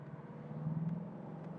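A 40-year-old car's engine accelerates downhill with the roof closed, a steady low hum building and peaking midway, heard from inside the cabin.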